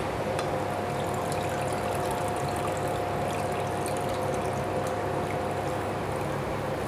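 Two cups of water pouring steadily into a pot while cooking vegetable biryani, a continuous splashing rush with no pauses.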